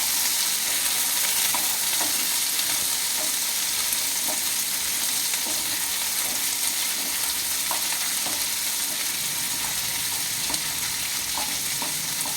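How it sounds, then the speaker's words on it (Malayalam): Onions sautéing with salt in a pan, a steady close crackling sizzle with frequent scraping stirs of a spoon throughout, no voices. "ഉള്ളി വഴറ്റുന്ന സമയത്ത് നമുക്ക് പിന്നെ പെട്ടെന്ന് വഴന്ന് കിട്ടണമെങ്കിൽ ഉപ്പ് ഇട്ട് കൊടുക്കാം"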